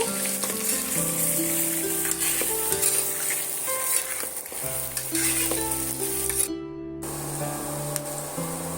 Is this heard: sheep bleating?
no